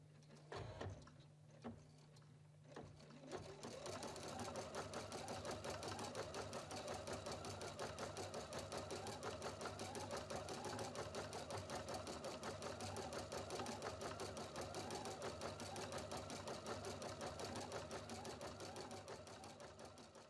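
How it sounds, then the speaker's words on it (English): A Husqvarna Viking Platinum Plus sewing machine embroiders a one-color design, starting with a few clicks and then settling into a loud, steady, rapid mechanical stitching rhythm that runs continuously with no pauses. "Touch start stop, and the embroidery is sewn in one color without any stops for color changing."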